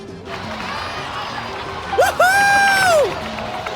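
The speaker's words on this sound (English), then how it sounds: "Let's give a huge round of applause to our brave young warrior," Crowd cheering and applause in Genshin Impact, a broad wash of cheers and claps throughout with a brief rising whoop-like call near the end, under game music.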